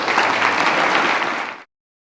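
Audience applause at a tech talk on Kubernetes and AI: dense, steady clapping from a room of people, loud and continuous, then cutting off abruptly after about a second and a half.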